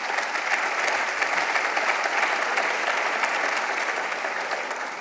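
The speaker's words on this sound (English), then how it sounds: "A round of applause, please, ladies and gentlemen" An awards ceremony audience gives a full, even round of applause for the jury members, close and sustained throughout with a faint crowd murmur.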